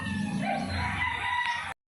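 A rooster gives one loud, close crow among pet chickens, running about a second and a half before cutting off abruptly.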